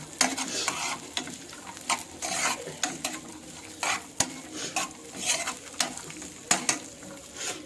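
Dry fruits sizzle in ghee in a pan while a utensil scrapes and stirs in repeated close strokes, with steady frying underneath and no speech.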